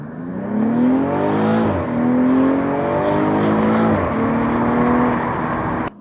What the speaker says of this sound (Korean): 배기음을 한번 들려드리겠습니다.